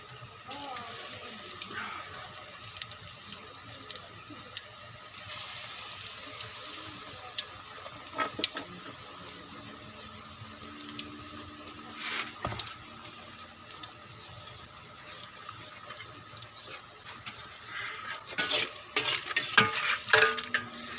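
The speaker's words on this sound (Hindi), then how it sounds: "अब हम पकोड़ों की तलाई शुरू करेंगे।" Brinjal pakoras, eggplant fritters, deep-frying in oil, a steady soft sizzle with bursts of louder bubbling and occasional clinks of a slotted spoon, close up, with some quiet talking.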